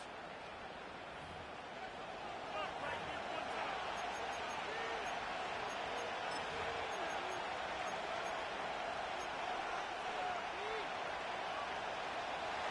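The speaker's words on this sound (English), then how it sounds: "The crowd making their presence felt." A stadium crowd roars in an EA Sports NFL video game during a Cowboys game, a dense, steady wash of cheering and noise that holds constant and loud throughout.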